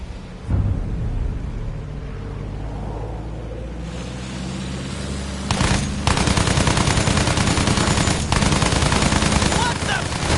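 Sustained rapid machine-gun fire in the World War I shooter Battlefield 1, aimed at a German aircraft. It starts after a quieter rumbling stretch, then hammers on loud and dense for several seconds, with voices faintly underneath.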